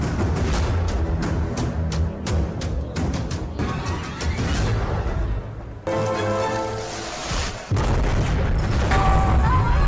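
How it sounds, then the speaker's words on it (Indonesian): Film battle scene of the Ottoman siege of Constantinople, with Orban's huge basilica cannons firing: a rapid series of heavy booms and blasts, followed by dense rumbling battle noise and debris. "nampak Utsmani hampir saja berhasil menjebol tembok Konstantinopel menggunakan meriam basilika buatan Orban."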